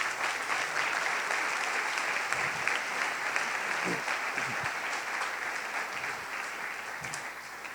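A church congregation at a Sunday service claps steadily for about eight seconds, a dense, even wash of many hands that fades only slightly toward the end, with no talk over it.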